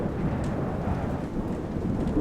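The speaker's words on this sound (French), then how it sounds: "le bruit du tonnerre, de la pluie battante et des bourrasques est effrayant" A storm roars with heavy pouring rain and low rumbling thunder as a dense, steady wash, loud and unbroken with no voices.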